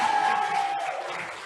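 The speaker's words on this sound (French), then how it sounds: "On l'applaudit encore très fort" An audience applauds a prize winner at a school eloquence contest, steady dense clapping close and loud, with a faint sustained tone running beneath it.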